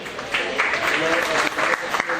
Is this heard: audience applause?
yes